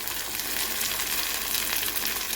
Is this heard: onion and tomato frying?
yes